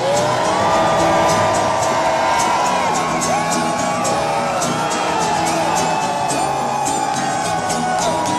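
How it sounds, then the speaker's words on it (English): A large protest crowd at Occupy Los Angeles screams and cheers without pause, a loud, dense wall of whoops and yells with a few shrill voices rising above the roar. "I want everybody to scream their lungs out"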